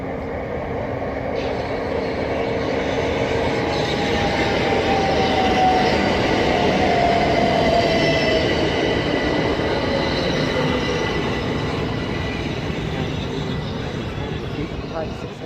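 A Southeastern Electrostar electric passenger train rolls into Sittingbourne station with a loud, steady rumble and a thin metallic squeal from its wheels, a close and continuous roar as it slows.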